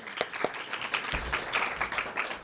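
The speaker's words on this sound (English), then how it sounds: "Another round of applause for her" An audience applauds at a keynote speaker event, with scattered, fairly faint handclaps spread through the room at a moderate distance.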